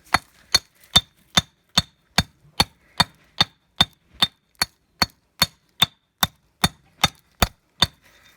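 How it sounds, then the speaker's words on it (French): A stonemason's marteline chips dry stone for a garden planter with the angle of its head, giving about twenty sharp, evenly spaced clinks in a steady rhythm, close and clear with no talking. "Avec l'angle de la marteline, on va taper, mais gentiment"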